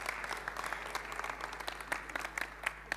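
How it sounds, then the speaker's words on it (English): Brief burst of audience applause at a forum on displacement in Africa, many hands clapping at a moderate distance in a steady patter. "Let's give them a round of applause."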